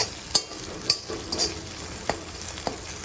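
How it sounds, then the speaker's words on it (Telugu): Garlic paste fries on low heat in a pan, a soft steady sizzle broken by a few scraping stirs of a spoon, close and alone with no voices. "వెల్లుల్లి పేస్ట్ వేసిన తర్వాత కంటిన్యూగా మనం సిమ్లో పెట్టేసి ఫ్రై చేసి కలుపుతూ ఉండాలి"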